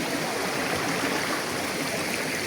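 A cave stream flows steadily, water rushing and splashing over rocks in a continuous, loud, broadband wash with no voices, close to the listener throughout.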